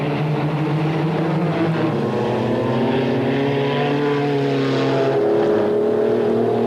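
GT race cars at full throttle flat out down the 2.2-kilometre Mistral straight at Paul Ricard during the 1994 BPR four-hour race, a loud continuous engine roar with shifting, rising tones as several cars pass close by.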